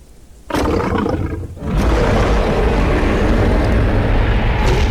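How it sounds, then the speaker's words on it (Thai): A huge, loud threat roar of a Saurophaganax dinosaur in the video game Path of Titans bursts in, pauses briefly, then erupts again into a long, sustained, rumbling bellow. "และก็จะตามด้วยเสียงขู่นะครับ"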